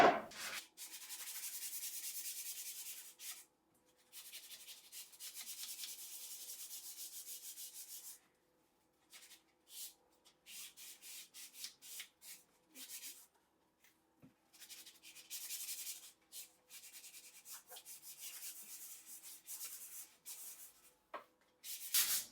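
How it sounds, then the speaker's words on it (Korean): Sandpaper rubs back and forth against a lacquered wooden tray in steady strokes, pausing now and then before resuming, close and scratchy with no talking. "사포 칠게요."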